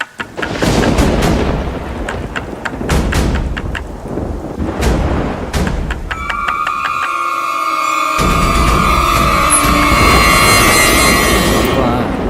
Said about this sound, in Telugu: ఏంటన్నా బయట మంచి వర్షం? విపరీతమైన వర్షం